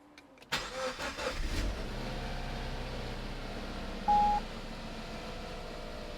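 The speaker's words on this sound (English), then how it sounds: "what I'm going to do now is turn the car on" A car engine cranks and catches near the start, then settles into a steady low idle, with a short electronic warning beep partway through. No one speaks.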